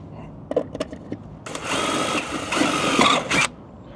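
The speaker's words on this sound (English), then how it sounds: "drill the last two holes" A few light clicks, then a power drill whirs loudly up close for about two seconds, its pitch wavering as it bites in.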